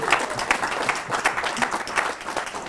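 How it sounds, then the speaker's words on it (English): An audience at an IFMA leadership series event gives a lively round of applause, dense, even clapping that fills the room for a few seconds. "So a round of applause to City of Toronto."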